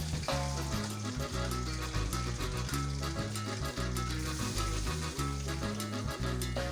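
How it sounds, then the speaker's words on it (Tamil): Sliced large onions frying in a pan for duck biryani, giving a steady, loud, continuous sizzle that lasts throughout with no talking. "அதையும் போட்டு நல்லா வணக்கிக்கலாம்."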